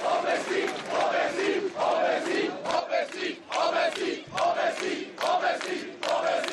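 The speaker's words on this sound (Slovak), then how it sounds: "Ľudia v dave však opakovane kričali jednak vulgarizmy" A crowd at a demonstration march shouts in repeated rhythmic chants, loud massed voices rising and falling in regular bursts.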